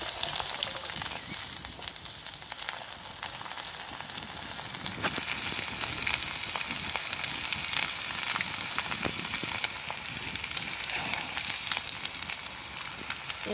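Leftover rice chips fry in oil over a low flame, giving a quiet, even crackle and faint sizzle with scattered tiny pops, close by and alone.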